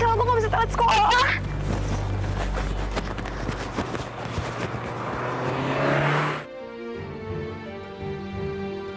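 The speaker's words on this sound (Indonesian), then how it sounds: "Gimana sih itu mobil?" A car rushes past in an animated story, a loud whooshing pass with a splash-like rush that cuts off abruptly. Voices and background music play around it.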